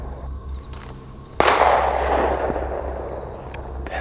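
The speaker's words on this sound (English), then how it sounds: "That's a pistol." A single sharp pistol shot cracks outdoors near a campsite, followed by a long rolling echo that fades slowly. The bang is loud and distant-sounding, with no talking.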